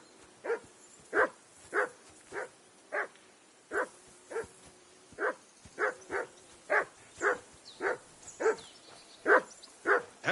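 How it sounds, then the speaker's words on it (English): In the medieval game Kingdom Come Deliverance 2, a dog barks about eighteen times in a steady, evenly spaced rhythm. The barks are loud and close against a quiet outdoor background. "Stop barking."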